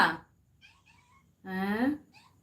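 A cat meows clearly, with a longer drawn-out call following softer mews, while a person talks quietly nearby.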